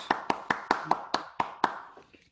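A few people clapping for a candidate at a 2020 virtual candidates forum, about eight sharp, evenly spaced claps close to the microphone, fading out at the end.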